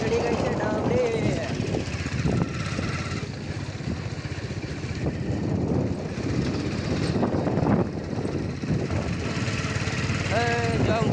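A tractor engine drones steadily as it drives ahead on the way home from the farm, a continuous mid-level rumble with a voice talking over it throughout.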